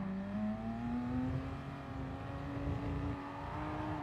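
A Porsche race car engine in a racing video game drones at steady high revs, its pitch climbing slowly and then holding, with a faint buzz of other cars nearby.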